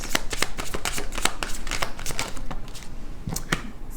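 A deck of tarot cards being shuffled and drawn up close, giving a fast, crisp series of riffling snaps and flicks that thin out toward the end, with no talking.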